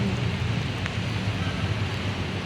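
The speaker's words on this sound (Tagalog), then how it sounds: "Let's go home. It's raining." Steady rain pouring outdoors during a Sunday Zumba session at QCMC, falling through trees as an even, continuous hiss with a low rumble underneath, close and fairly loud throughout, no talking.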